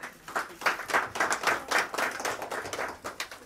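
Guests at an engagement ceremony clap together, a continuous burst of fairly close hand claps with a loose, busy rhythm lasting several seconds.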